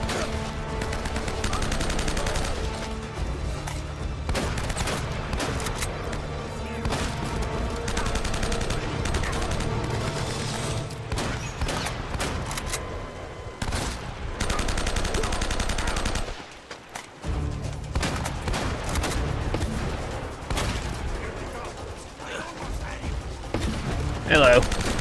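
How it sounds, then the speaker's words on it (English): Gunfire in the Uncharted video game, dense bursts of shots and automatic fire crackling almost nonstop, with a brief lull midway before the shooting resumes, while someone talks over it. "Getting shot during a cutscene?"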